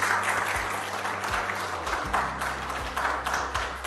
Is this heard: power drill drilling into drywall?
no